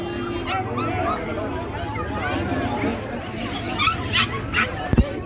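A dog barks and yips a few times amid a busy crowd of voices and chatter at the Friday animal market in Sayyida Aisha, Cairo, with a sharp thump near the end.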